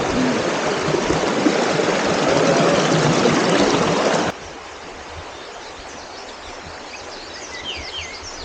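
Mountain spring water flowing beside a hiking trail toward Mt. Kotkot in Itogon, a loud, steady rushing close by that drops abruptly to a softer trickle halfway through, with faint birdsong.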